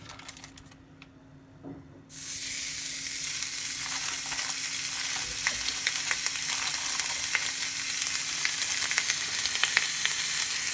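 A hamburger patty laid into a hot cast iron pan, quiet at first, then bursting into loud, steady sizzling and crackling frying that continues unbroken, close up and alone.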